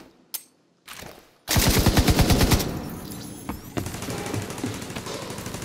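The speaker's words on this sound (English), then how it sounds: "There, my turret should distract them." A deployed turret machine gun fires in The Division 2. One rapid, loud burst of evenly spaced shots runs for about a second, then scattered gunfire continues further off over a background din.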